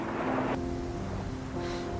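Ocean waves wash against a shore where a tide is going out, a steady broadband roar of surf with gusty wind noise on the microphone and no voices.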